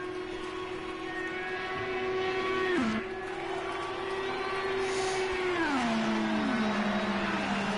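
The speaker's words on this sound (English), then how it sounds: "there's a group of the first 3 cars battling for position here at Indianapolis" Race car engines in a video game drone at Indianapolis in a steady high whine, with the pitch dropping sharply around a shift and then gliding down again as several cars run close together, loud and continuous.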